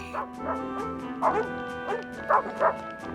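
Cartoon dogs at an old dog cafe in Paris letting out a string of rhythmic barks and yips, clear and moderately loud over a bed of soft animated background music.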